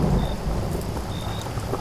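Steady heavy rain hisses with a low rumble of thunder underneath, loud and continuous throughout.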